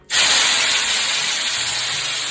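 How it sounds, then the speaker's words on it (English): A sudden loud, steady hiss of jumbo shrimp hitting a hot pan, sizzling continuously and evenly after the sharp start. "Now that's a sizzle."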